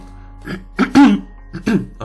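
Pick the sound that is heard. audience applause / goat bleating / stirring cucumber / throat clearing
throat clearing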